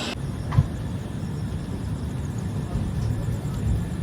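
The Jalpaiguri–Sealdah Humsafar Express rolls slowly through light rain, a steady low rumble of wheels and carriage noise with a few soft knocks, heard from inside the train.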